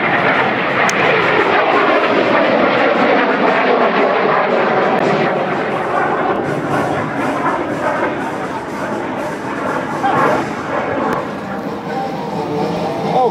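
A Learjet flying aerobatics roars steadily through an aileron roll, a loud continuous jet engine rush that holds for the whole pass with slight swells in pitch.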